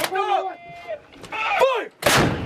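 A U.S. Marines artillery gun fires during intense training: shouted voices are heard first, then a single loud, sharp, close blast with a rushing roar bursts out at the end.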